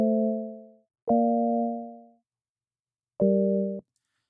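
Three plain, soft synth chords with smooth sine-like tones, each held briefly then stopping, with short silences between them, from a song production.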